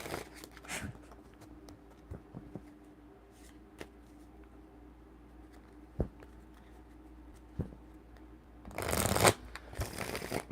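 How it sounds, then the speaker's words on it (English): Playing cards shuffled by hand, a few soft riffles and taps near the start, then one loud, close burst of riffling near the end against a quiet room. "let me get these cards shuffled"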